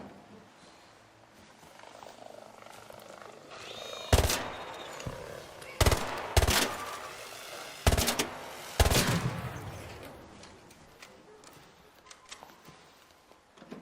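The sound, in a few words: gun firing rapidly in Arc Raiders video game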